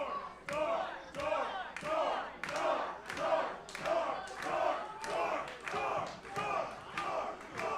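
Wrestling crowd at a Monster Factory show chanting in a steady rhythmic pattern, a loud unified roar of voices repeating about once per second with sharp claps or stomps on each beat.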